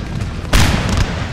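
A single deep cannon boom of canister shot in Napoleon: Total War bursts out midway, loud and close, followed by a rumbling tail over low background noise.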